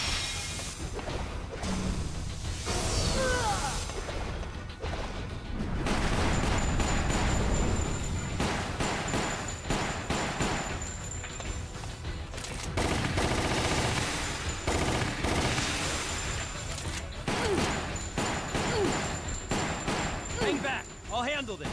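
Sustained gunfire in Resident Evil: Umbrella Chronicles, loud rapid automatic shots that go on nearly without a break against a boss fight, with occasional whooshes and blasts and voices calling out over it.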